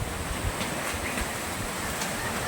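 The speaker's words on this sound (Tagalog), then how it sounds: "Sobrang lakas ng hangin dito." Strong, cold wind blows near the sea, making a steady broadband roar with a faint wash like surf. The noise stays constant throughout, and no one speaks.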